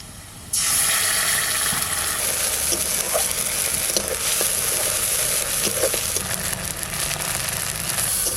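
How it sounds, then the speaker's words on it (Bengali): Cumin, onion and spices frying in hot oil in a home kitchen, a loud steady sizzle that bursts in abruptly and then holds constant with faint stirring scrapes, with no talking over it. "জিরে পেঁয়াজ এবার মশলাটা দিয়ে দিচ্ছি"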